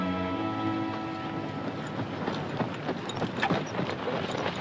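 A cow horse named Smokey trots with quick, light hoofbeats, fairly faint under a sustained musical tone that fades out early in the passage.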